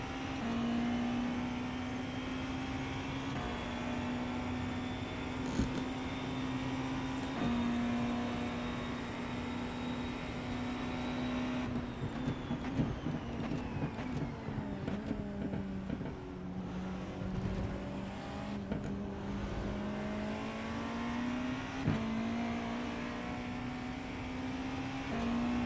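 Race car engines in iRacing hold a steady, buzzing drone with shifting pitch as the car runs through corners, a dip and rise in the middle, and brief clicks and knocks scattered throughout.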